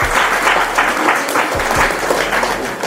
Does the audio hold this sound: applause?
yes